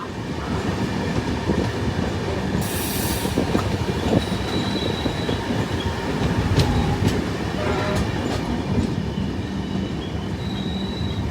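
A train rumbles through Lucknow railway station with rolling wheels, clanking cars and short high-pitched wheel squeals over a continuous loud roar.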